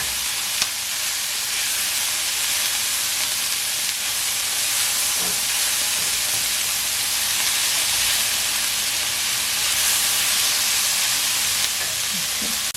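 Meat sizzling steadily in a skillet while browning for chili, a continuous bright frying hiss with small pops and no talk.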